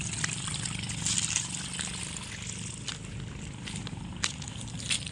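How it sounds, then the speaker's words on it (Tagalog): Water rushes and spills through a broken earthen dike at a flooded rice paddy, a continuous close gushing and splashing with occasional sharper splashes, and no one speaking over it. "Kunarmin niyo po yung lagaslas. Ito bumabagsak ang tubig."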